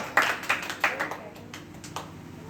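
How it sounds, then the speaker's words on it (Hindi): A congregation claps during a sermon, a handful of separate, fairly quiet hand claps in an uneven rhythm that fade out over about two seconds with no one speaking. "ताली बजेगी"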